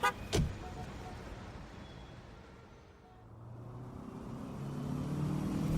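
A car drives slowly along a road, a low steady engine rumble and tyre noise with a sharp knock at the start and the hum swelling slightly toward the end.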